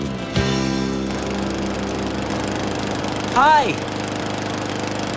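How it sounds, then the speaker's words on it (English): A lawn mower engine runs with a steady, loud drone throughout, and someone calls out a brief greeting over it. "You're mowing the lawn!"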